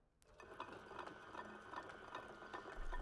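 A lathe at its slowest speed turns a homemade brake-disc generator, producing a faint, steady mechanical whir with a regular rhythmic ticking about every half second.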